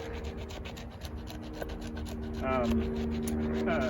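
Knife spine scraping dry wood into fine shavings and sawdust, a continuous rasping rub with repeated short strokes, close up, growing slightly louder toward the end.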